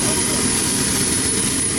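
The jet engines of a DC-9 skydiving aircraft at Skydive Perris spooling up, a loud, steady roar with a high whine, heard up close.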